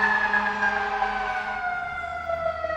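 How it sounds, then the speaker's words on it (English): A loud fire truck siren blares close by, its pitch sinking gradually as the truck passes, over rumbling engine noise. "Actually, a fire truck."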